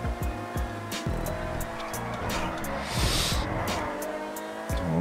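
A race car sliding sideways through a turn in GTA 5, with the engine revving hard and a sustained tire squeal that swells midway, loud and close.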